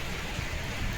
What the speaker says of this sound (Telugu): కానీ రైనింగ్, ఫుల్ వర్షం పడుతుంది, గాలి కూడా పీపచ్చంగా వేస్తుంది.